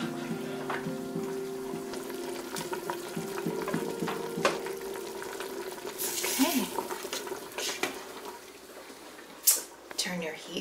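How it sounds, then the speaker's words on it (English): Ground turkey frying in a pan, a steady close sizzle with scraping stirs and a few sharper clinks, partly under a person talking. "I recommend that you cook your ground turkey about 10 to 15 minutes longer than you cook your red meat."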